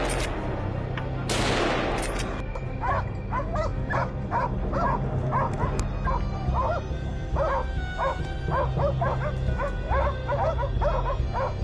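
Hunting dogs bark repeatedly and excitedly while driving wild hogs away from farm crops, a dense run of overlapping yaps and barks at mid-distance over a constant low rumble, opened by a brief harsh burst.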